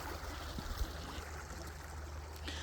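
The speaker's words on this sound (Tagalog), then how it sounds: "Agos ng tubig." Quiet, steady flow of running water, a soft continuous rush with faint trickling detail and an occasional low thump.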